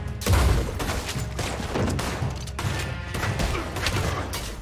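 Sustained Red Dead Redemption 2 gunfight during a distillery shootout, with dense overlapping shots and booms running throughout at a steady loud level, busy and layered rather than isolated cracks.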